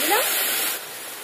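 Water poured into a pan of ground coriander, turmeric and Kashmiri chilli powder, a brief loud rushing splash that drops to a softer trickle.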